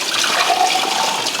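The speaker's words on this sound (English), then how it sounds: "Now I'm going to go ahead and pour my water over the rinsed corn." Water poured over rinsed dried corn in a bowl while making oblayo, a steady, loud, rushing splash lasting the whole moment with no talk.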